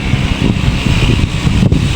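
Strong wind blows outdoors near trees, a loud, continuous low rumble buffeting the microphone without a break.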